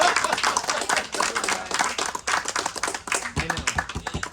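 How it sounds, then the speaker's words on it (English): A small audience at a chef's table dinner aboard a cruise ship gives a dense round of applause after a card trick, many hands clapping loud and close. "Round of applause."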